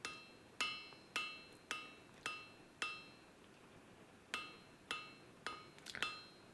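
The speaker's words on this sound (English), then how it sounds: "Nice overlapping regular hammer blows to ensure you have a nice smooth surface." Hammer blows ring out on hot steel while forging Viking tongs: a regular series of sharp metallic strikes with a short ringing decay, about one per half second, with a pause and a quick cluster near the end.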